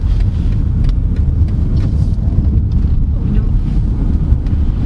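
A 2022 BMW 730i driving in sport mode, a loud steady low rumble of road and wind noise with a constant whooshing buffet and no distinct engine note.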